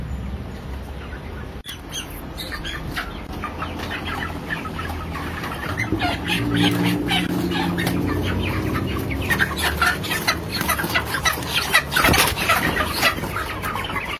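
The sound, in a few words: chickens clucking in a closed-house battery cage coop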